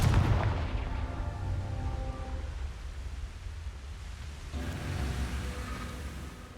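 A Confringo fire spell explodes in Hogwarts Legacy with a loud, rumbling blast at the start, then fades into a long, noisy roar of crackling debris, with a second swell of rumble near the end.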